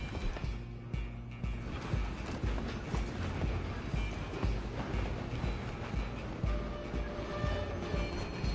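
Steady rumble and rhythmic clatter of a steam-era train in the Red Dead Redemption 2 video game, loud and continuous, with hoofbeats of a galloping horse mixed in alongside.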